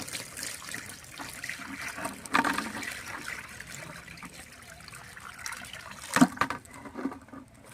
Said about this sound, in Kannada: ನೀರು ಹಾಕಿ ನೋಡುವ